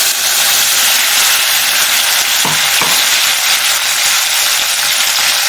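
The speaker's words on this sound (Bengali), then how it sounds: "পেস্টটা আমি এবার ঢেলে দিচ্ছি কড়াইয়ের মধ্যে।" Onion, ginger, garlic and chilli paste sizzles hard in a hot wok, a loud, steady frying hiss throughout with a couple of brief clicks near the middle.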